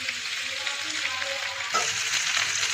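Fried fish being stirred into a potato and aubergine curry in a pan, a steady close sizzle of frying with soft stirring scrapes and a brief louder splash of sizzle near the end, no voices.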